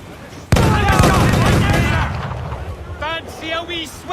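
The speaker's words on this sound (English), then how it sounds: "Cannon ready!" A loud, sudden blast of ship cannon fire from a naval battle in Assassin's Creed IV Black Flag erupts and rumbles on, followed by shouted crew voices.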